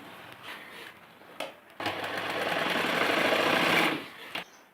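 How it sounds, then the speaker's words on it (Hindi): An electric sewing machine stitches fabric for a side zipper on a long dress blouse, with a couple of short starts followed by a steady, close, loud whirring run of about two seconds that then stops. "यहाँ पे जमती सिलाई लगानी है"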